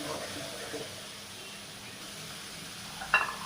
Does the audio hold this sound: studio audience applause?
no